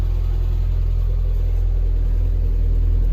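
Classic Mini engine idling steadily off the choke, a loud close low rumble with an even throb and no revving, running alone without talk.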